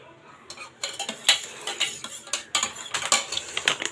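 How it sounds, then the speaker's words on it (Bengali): A spoon clinks and scrapes around the inside of a cup as powdered milk is stirred into tea, giving a steady run of light, bright metallic taps and rattles up close with no talk. "এর ভিতরে এখন গুঁড়ো দুধটা আমি দিয়ে সুন্দর করে মিশে নিব"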